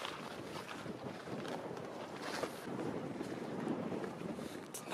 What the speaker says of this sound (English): The wind's starting to pick up, so it's getting really windy.